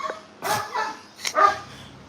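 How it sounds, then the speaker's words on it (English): A working dog gives short barking and growling bursts, several close, loud outbursts spaced across a couple of seconds with brief pauses between them. "I don't know if y'all could have heard that deep soul growl that he just given out."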